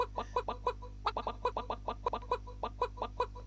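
Cartoonish chicken clucking effects from the Fuze game Chicken Aid, a quick run of short clucks in uneven bursts over a steady low electronic hum, close and clear with no talking.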